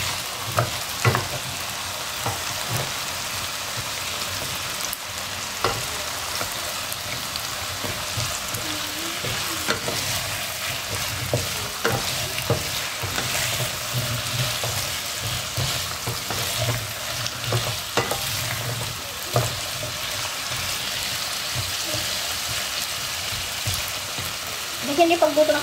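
Chicken for puchero fries in a pan with a continuous crackling sizzle, broken by scraping and clinking stirring strokes, and faint voices talk in the background.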